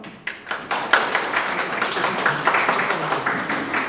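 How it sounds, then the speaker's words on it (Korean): An audience applauds to welcome a lecturer at a university disability-awareness session in a Korean academic festival, with a dense, steady patter of clapping that swells after a few scattered first claps. "모두 자리에 착석해 주시고 박수로 맞이해 주시기를 바랍니다."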